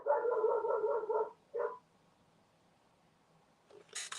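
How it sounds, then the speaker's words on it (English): Several dogs bark in short bursts at a neighbour walking a dog past the front of a house, then fall quiet before a final sharp bark or two, close by. "The dogs are barking at a neighbor walking their dog in front of the house."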